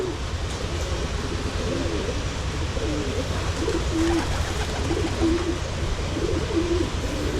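Pigeons cooing softly in a loft, repeated low rolling coos at moderate distance over faint background noise.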